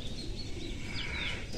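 Pigeons in a loft coo and chirp softly, with a few short bird calls over a low background rumble. No one speaks.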